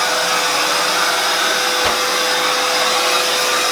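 A Milwaukee 0885-20 backpack vacuum sucks sawdust through its tube, giving a loud, steady broadband whoosh with a sustained motor hum; a brief bump interrupts it near the midpoint.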